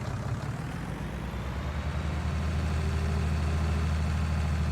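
A tractor engine in Farming Simulator 19 gives a steady, low, heavy diesel drone that swells slightly as the tractor gets moving, with no one talking over it.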